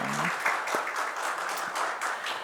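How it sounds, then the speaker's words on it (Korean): A congregation applauds during a Korean church Sunday service in New Jersey, a steady round of clapping from many hands that fills the room throughout. "우리 다시 한번 박수로 우리 환영하겠습니다"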